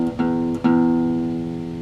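Acoustic guitar strummed with the palm kept off the strings, giving a bright, open ringing chord; two quick strums, close and clear, with the notes sustaining and slowly fading.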